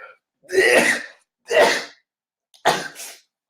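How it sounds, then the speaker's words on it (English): Three sneezes in a row, close and fairly loud, separated by short pauses of silence. "Excuse the sneezes."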